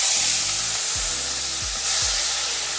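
Black cumin and onion paste sizzle in hot oil, a loud, close, continuous frying hiss joined by a few soft stirring scrapes.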